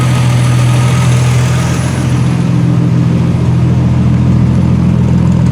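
A 1976 Triumph TR6 engine idles steadily with the fuel pump disconnected, a loud, close, even low rumble holding throughout as it runs down its remaining fuel.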